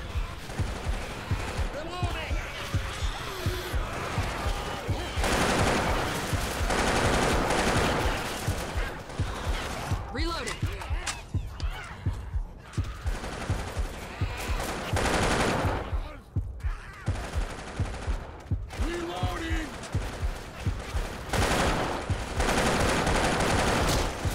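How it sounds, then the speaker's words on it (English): Rapid bursts of video game gunfire cut down zombies, steady and loud across the whole stretch. Brief gaps for reloading break the shooting, and voices talk over the action now and then. "Shooting dead zombies."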